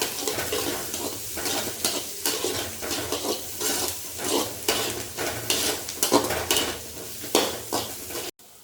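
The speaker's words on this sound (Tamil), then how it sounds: "இப்போ ஒரு ஃப்ரை பண்ணிக்கலாம் நல்லா" Dried red chilies and onion frying in a pan for a drumstick-leaf stir-fry, stirred with a utensil in a steady rhythm of repeated scraping strokes over a soft, continuous sizzle, close and alone.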